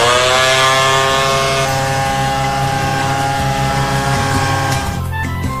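An orbital sander works on wood while a fireplace is being refinished, giving a loud, steady, buzzing motor whine that holds for several seconds before wavering and dropping near the end.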